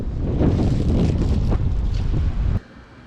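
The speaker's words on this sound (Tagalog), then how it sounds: "Mahangin kasi ngayon, mahangin." Strong wind blows outdoors at a dam, a loud continuous rumble buffeting the microphone with gusty surges, dropping off abruptly near the end.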